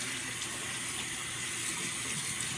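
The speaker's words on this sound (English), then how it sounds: "I'm going to rinse my hands off" Bathroom tap running steadily while hands are rinsed under it, a continuous close hiss and splash with no pauses.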